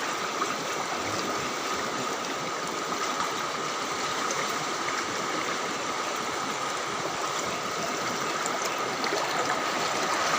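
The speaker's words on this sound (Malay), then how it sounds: "Suasana air dalam rumah." Floodwater rushes through the inside of a flooded house during a natural disaster, a steady, dense roar of flowing water that continues unbroken and fairly loud from start to end.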